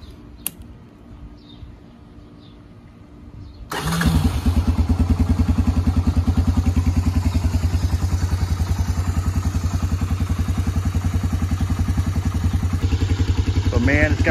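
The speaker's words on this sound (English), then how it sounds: "it's got that same bulletproof 250cc four-stroke Honda motor right there, shaft drive." Honda TRX250 ATV with a 250cc four-stroke engine and shaft drive starts cold after sitting, then idles in a steady, loud, close putter that continues to the end.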